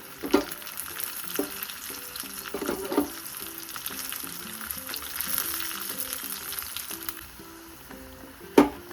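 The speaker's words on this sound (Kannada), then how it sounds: "ಒಣಮೆಣಸಿನಕಾಯಿ ಮತ್ತು ಕರಿಬೇವು ಸೇರಿಸ್ತಾ ಇದ್ದೀನಿ" Dry red chillies and curry leaves frying with browning garlic and cumin in a pan for padavalakai kootu, a steady close crackling sizzle with stirring scrapes and a sharp clank near the end.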